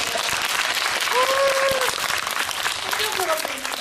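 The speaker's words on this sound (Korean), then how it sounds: "박수." An audience at a film screening Q&A at the Incheon film week applauds continuously, a dense, close wash of clapping with a few faint vocal tones rising through it.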